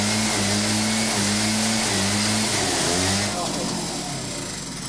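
A city bus engine runs loudly at a street-side bus terminal, a steady mid-pitched drone that shifts slightly in pitch, with people talking over it.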